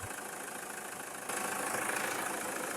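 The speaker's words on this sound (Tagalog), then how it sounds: "Palyado ang makina. Ayan po, nanginginig habang naka-idle." A 2006 Toyota Fortuner engine runs at idle with a misfire and shaking, a faint, steady rough hum with no talking and a slight rise in level partway through.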